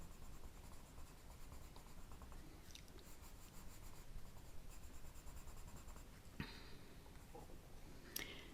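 Colouring a stamped image on paper with various media: soft, continuous scratchy rubbing strokes, close and faint, with a few small taps and clicks near the end.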